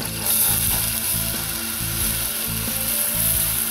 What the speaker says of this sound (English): Then I'm going to add in some beer, some Killian's Irish Red this time.